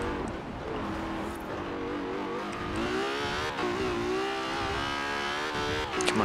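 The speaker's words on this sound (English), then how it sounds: "High revving engine. It's scary." A stock 2017 Ferrari 812 Superfast in Forza Horizon 4 revs hard and continuously, its loud engine climbing in pitch through quick gear changes with no break.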